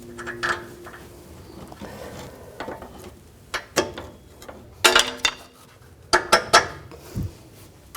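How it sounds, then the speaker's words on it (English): Steel pry bar levering the front shock of a 2007-14 GMC Sierra 3500HD into position, giving scattered metallic clanks, scrapes and knocks at close range with no talk. "Now I'll just use a pry bar."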